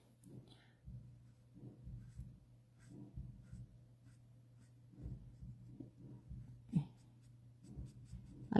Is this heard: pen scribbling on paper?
yes